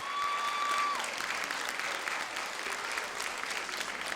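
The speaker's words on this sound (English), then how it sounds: "So please, just give him another round of applause." A crowd applauding steadily, dense clapping filling the room at moderate volume, with a brief tone fading early on.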